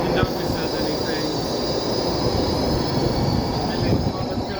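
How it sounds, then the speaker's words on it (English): A Baltimore Metro subway train pulls into Milford Mill station with a steady, loud rumble of wheels on rail and faint high whine, continuous throughout. "Here comes the train."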